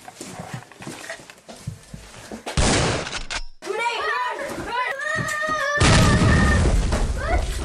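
Grenade explosions amid a firefight: sudden loud broadband blasts that cut in sharply, with shouting voices and a dog barking in between.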